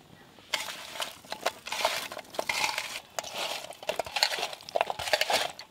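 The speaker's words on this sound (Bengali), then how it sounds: "লবণ হলুদ মাখা চলছে মাছে।" Small river fish being mixed by hand with salt and turmeric in a bowl, giving soft wet squelches and light clinks against the dish in an irregular rhythm, fairly close and moderately quiet.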